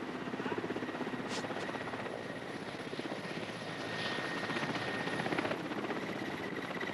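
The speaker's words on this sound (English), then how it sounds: "At last, they are brought aboard, to the relative safety of a helicopter hovering in the treetops" A helicopter hovering over snowy forest treetops, its rotor chop and engine drone steady and fairly close, continuous with a slight rise in intensity partway through.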